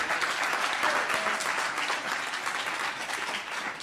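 Dense, steady clapping fills a room as a conference audience at a breakfast event welcomes an introduced guest, continuous and fairly close with no speech over it.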